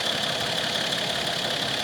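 Mercedes ML W163 engine running steadily at idle, heard up close with a continuous even hum and a faint rhythmic ticking, no voices.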